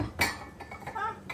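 Pasta with tomatoes being served into a bowl, brief metallic clinks of cutlery against dishes, close and fairly quiet, with no talking.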